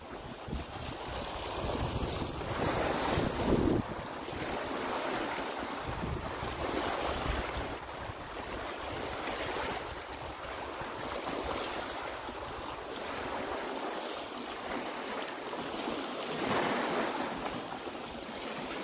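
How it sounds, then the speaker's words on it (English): Ocean waves roll and break on the shore on a calm morning, a steady, loud wash of surf with rising and falling swells and some wind buffeting the microphone, no voices. "Let the sound of those waves wash away any kind of tension."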